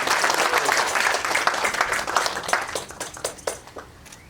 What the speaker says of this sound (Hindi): एक बार लक्ष्मण जी के लिए जोरदार ताली बजाइए।